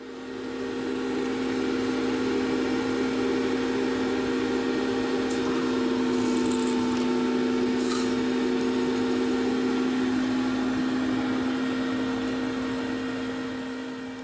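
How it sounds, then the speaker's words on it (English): A modified vacuum seed planter with seed plates runs with a steady mechanical drone, a strong low hum continuous like a motor and fan whirring nearby, with faint rattles near the middle. "Our planter is a modified vacuum planter with seed plates"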